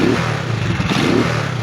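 A Euro 150 motorcycle engine with a misfire issue runs close and loud, revving briefly with a rough, clattery pulse through the short burst.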